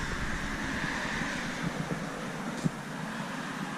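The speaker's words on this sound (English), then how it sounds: "Sorry about the car noise there." A car passes outdoors near a parked 2006 Chevrolet Silverado, a steady low rushing wash with faint wind, no voices.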